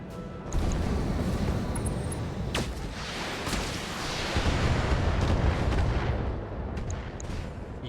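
Gauss rifle shots in a mech combat game, heavy booming blasts over a dense roaring battle din, with one sharp crack standing out and the rumble swelling and fading through the stretch.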